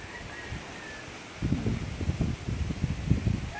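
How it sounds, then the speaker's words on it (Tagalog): Strong wind gusts through a rural yard with banana plants, a steady rushing hiss that turns into buffeting, fluttering bursts close to the microphone. "Ay nako, lakas sa hangin"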